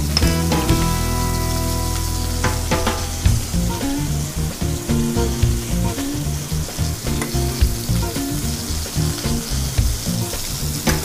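A cutlet frying in a pan, loud close sizzling and spattering that thins into sharper, intermittent pops and crackles, with tonal hum and clinks underneath.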